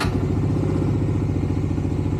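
Bajaj Dominar 400 motorcycle running steadily right after being switched on, a close, even engine hum with rapid low pulsing and light mechanical clatter, no voices.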